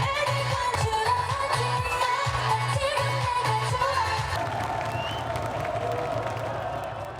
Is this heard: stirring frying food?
no